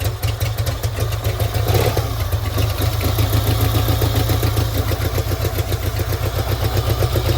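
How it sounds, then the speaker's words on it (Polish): A Swiss vintage Condor A580 shaft-drive motorcycle idles close by, its engine thumping in a steady, rapid rhythm at an even level throughout, with no talk over it. "Szwajcarski motocykl"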